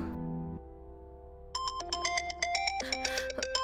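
A mobile phone rings with a melodic electronic ringtone, a low tone at first, then a bright repeating chime pattern, close and clear with no talk.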